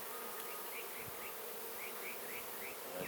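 Honeybees hum in a dense, continuous buzz around an open beehive while frames of honey, pollen and capped comb are checked, with individual bees whining past close by.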